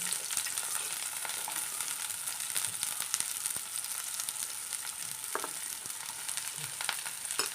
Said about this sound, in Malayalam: വെളിച്ചെണ്ണ ഒഴിച്ചു കൊടുക്കാം നമുക്കിനി ഉള്ളിയൊക്കെ ഒന്ന് വഴറ്റിയെടുക്കാം സവാള ചേർത്ത് കൊടുക്കാം